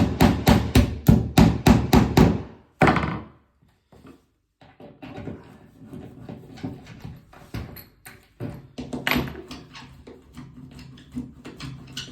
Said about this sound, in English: Tap them into place.